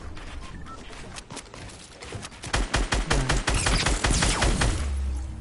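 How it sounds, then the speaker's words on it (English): Rapid bursts of gunfire in the video game Fortnite, a sniper shoot-out mode, start as scattered shots and then thicken into dense, loud, overlapping volleys of fire with no one talking. "They are shooting you."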